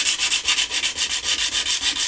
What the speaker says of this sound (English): Might even get the electric drill out with a rotary wire brush.